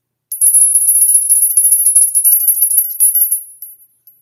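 A homemade bell made of soldered coins rings with a bright, high metallic shimmer, struck repeatedly in quick succession for about three seconds and then fading out, heard close and alone.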